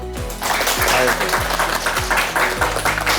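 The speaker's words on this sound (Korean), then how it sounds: "박수 한번" A group claps in applause after a day of startup internship work at Samsung C-Lab, with dense, steady clapping over music or a low tonal background, while a voice can be made out.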